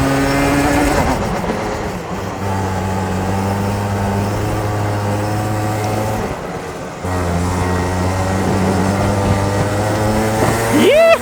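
A racing car engine in a video game holds full throttle with a loud, sustained droning tone, dips briefly mid-run, then climbs again with rising pitch near the end.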